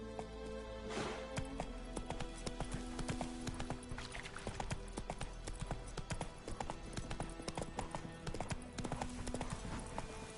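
Hoofbeats of the horse Roach in The Witcher 3, a continuous, close, rhythmic clip-clop of a trotting horse on hard ground with steady game ambience beneath.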